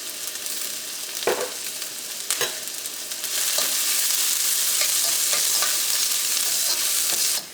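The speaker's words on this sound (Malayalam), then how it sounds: "ഇപ്പോൾ സവാളയും ഇഞ്ചിയും വെളുത്തുള്ളിയൊക്കെയും നന്നായിട്ട് മുരിഞ്ഞിട്ടുണ്ട്" Onion, ginger and garlic fry in a pan for chicken spring rolls, a loud continuous sizzle broken by a few scraping stirs early on, then a fuller, steady frying hiss. No one speaks.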